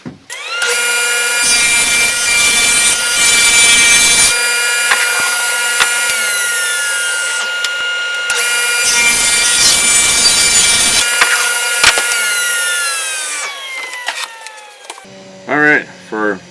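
A table saw rips a wood panel on a MicroJig 360 sled, with a loud sustained whine and rasping cut in bursts, pausing between passes, plus brief bumps of handling at the end.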